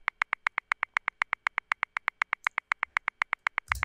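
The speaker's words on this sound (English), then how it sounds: "those little tick noises are basically what the MIDI is going to be adhering to." Steady, evenly spaced metronome-like ticks mark the MIDI swing grid in Logic, about six per second, crisp and moderately loud, with a brief noisy thump at the very end.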